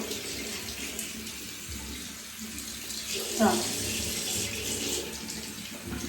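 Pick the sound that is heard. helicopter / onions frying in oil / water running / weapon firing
water running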